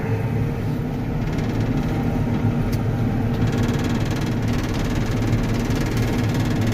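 Case Patriot 3330 sprayer engine running cold at a steady idle after starting, a continuous low rumble with mechanical whir, close and unbroken throughout.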